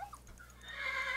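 A zebra in Minecraft gives a single brief, rising neigh, close and fairly clear, with no talk over it.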